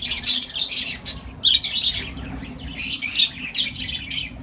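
Budgie parrots in a breeding colony, a busy chorus of close, repeated chirps and squawks overlapping continuously over a low background hum.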